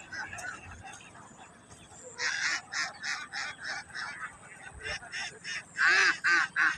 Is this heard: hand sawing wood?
no